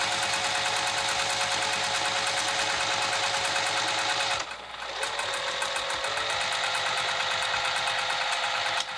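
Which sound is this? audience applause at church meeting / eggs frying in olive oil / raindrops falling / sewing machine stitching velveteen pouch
sewing machine stitching velveteen pouch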